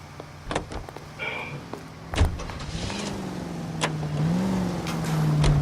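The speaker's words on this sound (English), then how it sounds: "Voy a conducir esta vez yo." In-game car from L.A. Noire, its engine starting and pitching up as it pulls away, a rising motor tone with clicks and thumps, fairly close, no talk.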